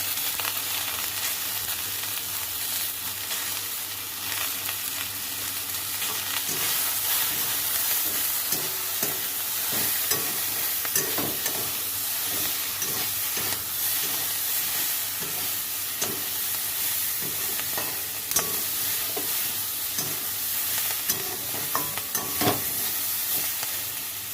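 Tengra fish curry with salt and turmeric being stirred in a hot pan, steady sizzling and frying hiss under repeated scraping strokes of a spoon, close and continuous for the whole stretch.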